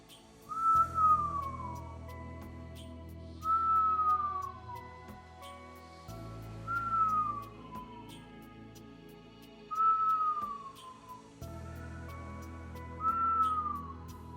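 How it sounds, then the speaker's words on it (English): A whistle breath is exhaled during a Kundalini yoga exercise, heard as five regular high whistled tones that each slide downward, spaced about three seconds apart over a soft background hum. "as we continue our whistle breath"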